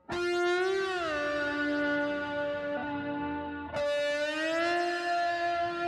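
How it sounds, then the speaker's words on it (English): A sustained, heavily distorted slide guitar tone glides smoothly between pitches, buzzing and harmonically rich, with one brief bend midway through. "I'm adding a melody/texture with my guitar, and I'm running it through distortion and playing with a slide"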